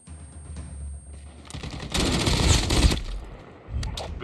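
Gunfire in the mobile game Call of Duty Mobile, Battle Royale mode, comes as loud bursts of rapid automatic shots, with a long sustained volley in the middle and a shorter burst near the end.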